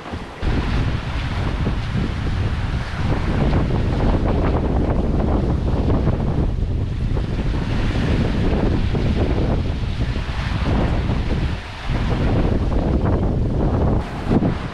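Strong wind of about 15 knots buffets the microphone without pause aboard a sailboat at sea between the Canaries and Cape Verde, mixed with the wash of waves, loud and roaring, no voices heard.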